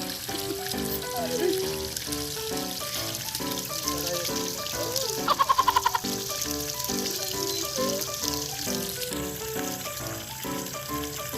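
Water flows and trickles steadily at a farm, a continuous splashing, gurgling stream with a brief rattling clatter partway through.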